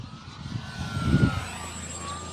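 Electric motor of a 1.1 m RC F4U-4 Corsair model plane on a 4S battery, taking off with flaps down: a steady, fairly distant whine and rush that swells briefly at mid-clip, in wind, with no talking.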